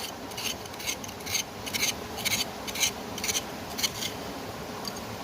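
Rhythmic gritty scraping as dirt is worked out of a groove in rock for gold panning, a run of close, sharp rasping strokes in irregular bursts, with no talking.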